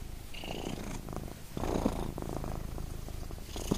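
A cat purring close up, a steady rumbling purr that swells and eases in rhythmic cycles with no other sounds.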